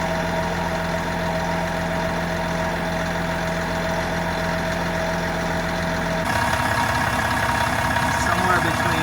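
A boat engine runs with its throttle raised while a Balmar alternator charges, giving a steady, loud mechanical drone. Partway through, the tone and texture of the engine shift.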